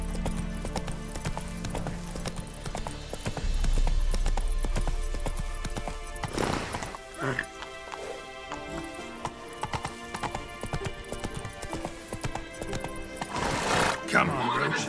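Roach the horse gallops in the video game The Witcher 3, with steady, close hoofbeats and a whinny along the way, and someone speaks over the clatter.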